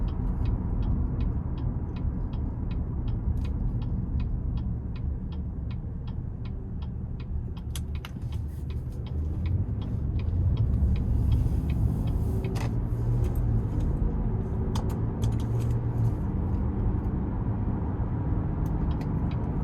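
Cabin of a 2018 Buick Enclave three-row SUV with V6 and 9-speed automatic on the road, a steady low engine and road rumble with faint ticking, smooth and even throughout.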